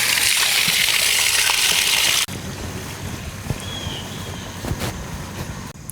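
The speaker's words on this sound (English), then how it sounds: "so we're ready to fill this with water" Water pours steadily into a wooden barrel in a garden setting, a loud rushing gush for about two seconds that then stops, leaving quieter dripping and trickling from the still-leaky staves.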